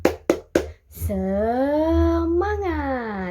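Three sharp rhythmic claps from a primary-school class doing a cheer routine, followed by a sustained sung or chanted voice response that rises in pitch near the end.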